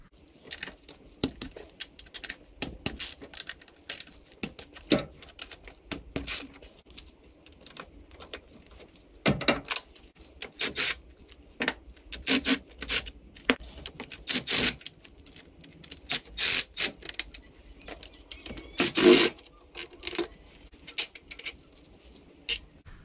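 Scattered metallic clicks and ratchet taps as bolts and nuts come off the intake manifold of a Honda CR-V, irregular bursts of close work sounds with quiet gaps between them.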